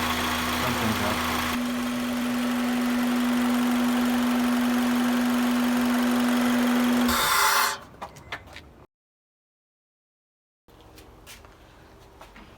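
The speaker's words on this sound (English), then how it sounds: "Seems like it still has that whining noise" A steady engine whine with a sustained tone runs from an Acura RSX Type-S fitted with an aftermarket air filter, then cuts off abruptly, followed by a silent gap and then faint clicks and rustling.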